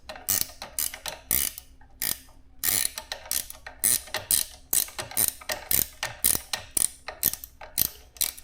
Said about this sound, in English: So now I can get the bolt out.